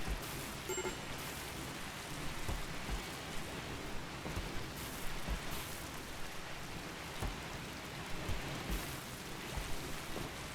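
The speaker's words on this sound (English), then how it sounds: "And apparently it's raining outside." Steady rain from the RimWorld video game hisses evenly throughout, a constant wash of falling drops with faint scattered ticks and no voices over it.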